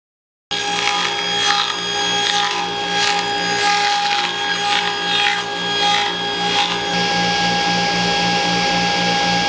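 A power tool trims excess wood from a large handmade sign in a workshop, a loud steady grinding rasp that runs for several seconds without pause.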